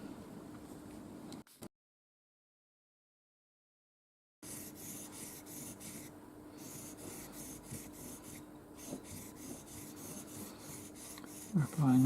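A mokuhanga woodblock carving blade rubbed back and forth on a finer whetstone, a faint, even rasping stroke that repeats steadily, broken by a few seconds of silence early on.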